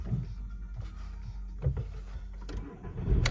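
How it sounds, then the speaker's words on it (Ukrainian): A Volkswagen Golf 4 with about 211,000 km starts up, with quiet cranking bursts and a brief catch near the end, heard faintly and close with some handling noise around it. "заводиться авто з півоберту"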